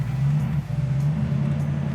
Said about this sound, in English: but power top works. You can hear that.